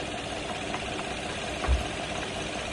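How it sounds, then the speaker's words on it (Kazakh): A 2013 Kia K7 with a 3.0-litre GDI engine idles, a steady low hum heard close up, with one brief deeper thump midway. "Бізде моторын оталдырып қойдық. Ортасында GDI мотор 3 куб. Мотор өте жақсы жұмыс істеп тұр."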